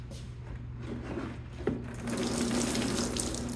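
Fluid from an upside-down E-Type engine drains into a basin in a workshop, a faint steady trickle and splash with a small knock midway, after which the flow grows heavier and louder.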